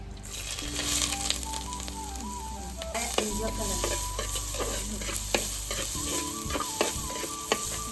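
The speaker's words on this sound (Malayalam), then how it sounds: "വെളിച്ചെണ്ണ ഒഴിച്ചിട്ടുണ്ട് അതിലേക്ക് നമുക്ക് ഇഞ്ചി ഇട്ട് കൊടുക്കാം" Loud, close sizzle of ginger frying in coconut oil, a dense crackling hiss with stirring scrapes and an occasional clink, no voices.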